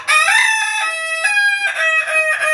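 Kinantan, a rooster in a crowing duel, answers with one loud, close, drawn-out crow, its clear ringing tone stepping down in pitch in stages, with no talk over it.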